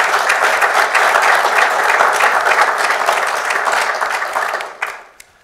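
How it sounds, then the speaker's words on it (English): An audience at a Salzburg Global Seminar opening session gives a round of applause, loud and dense clapping that holds steady, then thins and dies away to a few last claps. "a round of applause."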